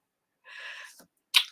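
A single sneeze, close and quiet, with a breathy intake followed by a sharp burst.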